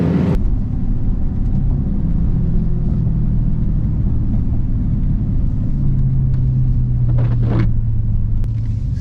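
A Dodge Hellcat on a wet, dirty road gives off a loud, steady engine rumble as it pulls away with little traction, sustained and close, with no talk.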